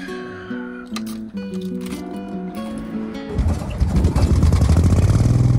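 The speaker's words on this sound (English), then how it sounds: "No wait, that's the sound of stolen catalytic converter." An RV engine with its catalytic converter stolen starts up after a stretch of tonal music, then runs with a loud, raspy, unmuffled roar that grows heavier toward the end.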